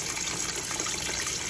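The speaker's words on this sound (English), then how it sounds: "I'm putting water in the washing machine." Water pouring into a small, cheap portable washing machine, a steady rushing gush that runs without a break, close and fairly loud, with no talking.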